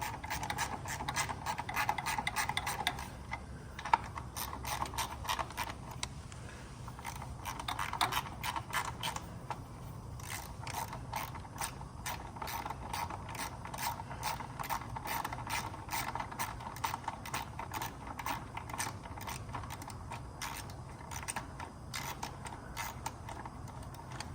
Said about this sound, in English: And then we'll retorque that one up there.